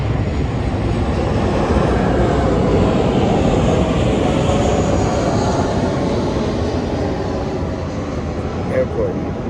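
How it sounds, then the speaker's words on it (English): Low, continuous rumble of airplanes flying overhead near an airport in sunny California, a steady broad roar lasting throughout with little change in level. "You hear the planes over us?"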